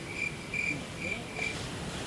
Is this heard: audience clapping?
no